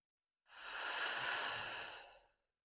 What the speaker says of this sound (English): Try with in through the nose, out through the mouth.